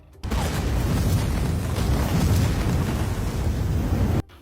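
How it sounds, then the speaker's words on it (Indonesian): Car bomb explosion in a film, a loud, dense roaring blast that sustains for about four seconds before cutting off abruptly, with no talk over it. "Bom itu ternyata aktif dan akhirnya mobilnya meledak"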